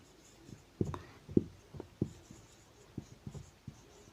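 Pen or chalk writing numbers by hand, a close series of short scratchy strokes and taps in an irregular rhythm, quiet and isolated with no speech.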